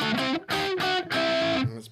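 An electric guitar played through a Klon overdrive pedal rings out in a few sustained, lightly driven chords and notes with a warm, slightly gritty edge, each phrase separated by short gaps.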